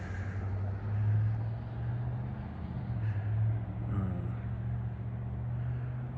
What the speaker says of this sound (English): Even for 5 in the morning, I'm still getting loud traffic